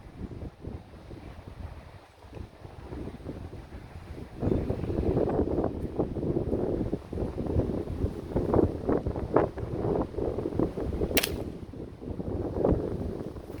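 Steady outdoor wind rushing and buffeting across the microphone at an air rifle range, a continuous broadband roar that strengthens after the first few seconds, with no talking.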